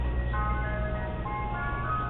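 Mister Softee ice cream truck chime playing its tinny melody steadily over a low engine rumble, continuous and fairly close, with no one talking.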